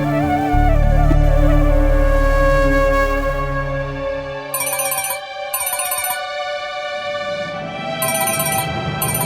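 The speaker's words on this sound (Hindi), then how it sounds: "कुसुम जी फोन क्यों नहीं उठा रही है?" A melodic ringtone plays on and on with no answer, loud and close, its repeating tune looping several times without pause.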